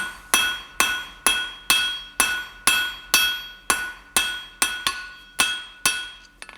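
Blacksmith hammering hot steel square while forging an eye hook, about fourteen sharp ringing anvil strikes in an even rhythm, each decaying quickly, close and alone.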